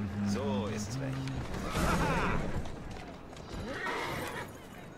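A horse in the video game Assassin's Creed Syndicate lets out a short, high whinny near the start, followed by hoof clatter and rustling, with voices talking throughout.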